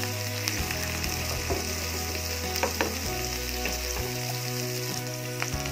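Garlic and ginger stir-frying in a pan for beef and broccoli, a steady dense sizzle with scraping stirs and faint clinks, close and continuous with no talking.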